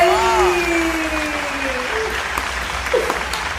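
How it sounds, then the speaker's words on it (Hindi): An audience at a poetry recital (mushaira) claps, a continuous crowd applause bed with a voice briefly heard over it. "एक बार जोरदार तालियां बजा दीजिएगा"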